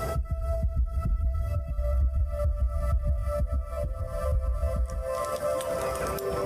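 Fast, throbbing heartbeat in a movie scene, its low thumps repeating quickly and steadily before fading out near the end, with no talking over it.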